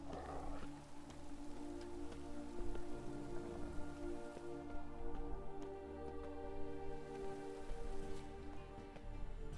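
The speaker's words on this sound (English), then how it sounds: "Raining again." Steady, soft rainfall patters continuously on a surface in the video game Witcher 3, an even hiss of drops with low rumbling underneath and no talking.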